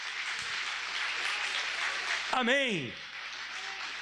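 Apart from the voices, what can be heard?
applause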